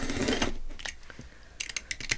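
A paper trimmer cuts through journal pages close by, giving a crunchy slice followed by a few short, crisp clicks and rustles of paper.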